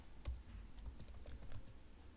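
Quiet keystrokes on a computer keyboard, a quick irregular run of soft clicks heard close up.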